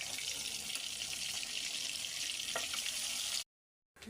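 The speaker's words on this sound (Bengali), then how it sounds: "মাছ ভাজা হয়ে গেছে।" Fish frying in a pan gives a steady, close sizzle that holds at one level throughout, then cuts out briefly near the end before returning.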